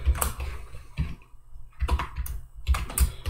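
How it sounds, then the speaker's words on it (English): Keys on a computer keyboard clatter in quick irregular clusters, close and crisp, with brief pauses between bursts of typing. "I'm just going to type something in here."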